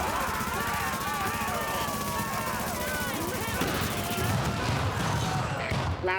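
Combat din in a video game with a flashbang grenade going off amid dense gunfire and crashing debris, loud and continuous, with a sharper burst late on and voices mixed into the clamor.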